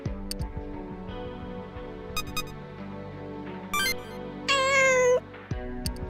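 A kitten in the game Devil Survivor 2 gives a clear, near, high-pitched meow amid light game music and chiming menu sounds, with no speech.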